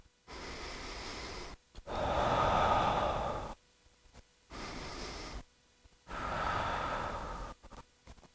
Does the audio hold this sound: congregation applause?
no